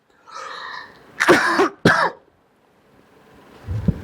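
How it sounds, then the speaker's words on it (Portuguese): Two sharp, close coughs in quick succession, preceded by a soft breath and followed by quiet rustling. "perdão aí pela tosse"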